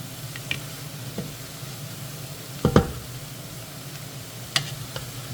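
Broccoli sautés in a pan, with a soft steady sizzle and a few scraping stirs. A louder clatter comes from the spoon or pan in the middle, followed by another brief knock later. All of it is close and fairly quiet.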